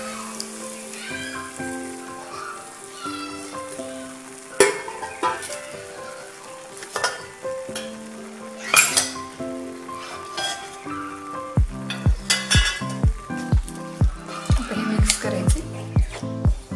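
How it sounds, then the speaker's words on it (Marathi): Mashed vegetables for pav bhaji fry in oil on a street-food style pan, with sizzling under a rapid run of sharp spatula knocks and scrapes that grows denser and louder toward the end, alongside tonal music-like sounds. "आता ह्याच्यात मॅश केलेली भाजी टाकून घ्यायची."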